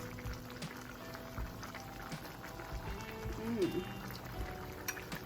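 Coconut curry sauce simmers in a pot with a low, steady bubbling, continuous and fairly faint, with a few soft clicks over it.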